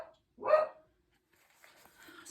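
A single short bark from a pet dog indoors, fairly near and moderately loud, followed by quiet and faint rustling.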